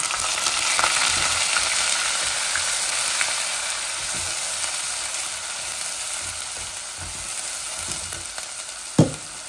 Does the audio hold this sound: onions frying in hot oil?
yes